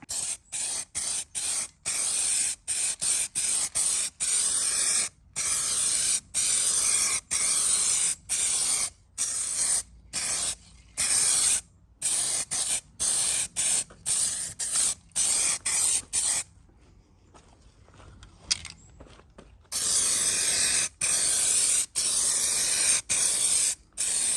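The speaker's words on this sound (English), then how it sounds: "So I'm going to give it some epoxy primer, I think." A spray gun lays epoxy primer on Land Rover Defender parts in a long series of close, loud hissing bursts, chopped by brief pauses, with one longer gap before spraying resumes.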